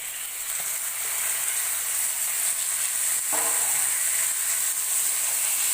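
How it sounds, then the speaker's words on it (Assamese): Chicken pieces frying in spiced oil in a pan for a chicken pulao, giving a steady, close sizzle and hiss throughout, with a faint stir or scrape partway through and no talking. "সেইখিনি এতিয়া ভাজি থাকিব লাগিব কিছু টাইম, মাংসখিনি সিজি যোৱালৈকে"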